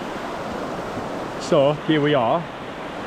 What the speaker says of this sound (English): what is a very, very cold river, stream